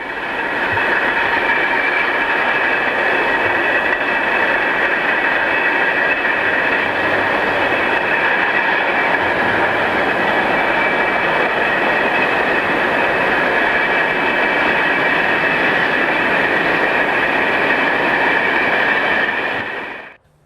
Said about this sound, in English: a Class 1044 travels north with a lengthy freight bound for Budapest